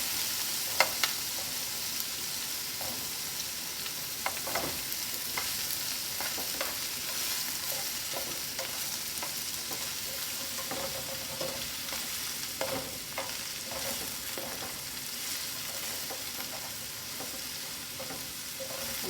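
Chinese okra fries in a pan with a constant soft sizzle while a utensil stirs it in irregular scraping strokes, close by with no talking.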